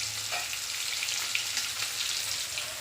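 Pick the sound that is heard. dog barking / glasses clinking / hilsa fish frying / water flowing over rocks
hilsa fish frying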